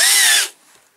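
A power drill whines loudly at high speed into a Corgi Toys FC-150 Jeep hydraulic tower wagon during restoration, running for about half a second before cutting out and spinning down.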